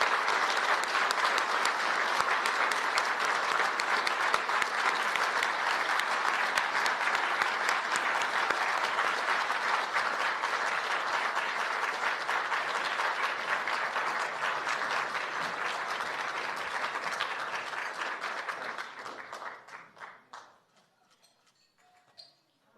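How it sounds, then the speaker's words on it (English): Sustained, dense applause from a large room of journalists for honoree Rana Ayyub at an evening awards event, holding steady for nearly twenty seconds before tapering quickly into scattered claps and quiet. "Please let's give a big round of applause to our 2022 International Obashan honoree"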